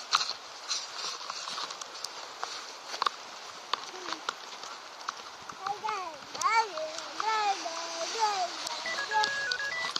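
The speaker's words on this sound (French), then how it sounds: "L'eau, les vagues." Sea waves wash and splash in a steady, soft broadband hiss, with people talking closely over the water throughout.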